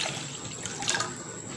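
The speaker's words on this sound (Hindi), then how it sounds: "2 गिलास इसमें पानी ऐड करेंगे हम" Water poured from a glass into a pan on a lit burner for besan halwa, a steady close splashing gurgle that runs throughout without speech.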